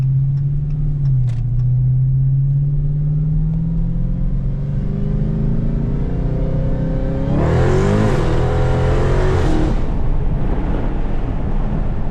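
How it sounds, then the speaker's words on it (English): A Dodge Charger Hellcat accelerates hard on the road, its supercharger whine rising steadily in pitch over the engine roar, with a louder surge near the end. It is heard close and loud for about twelve seconds, with no talking. "Hopefully you can hear that supercharger."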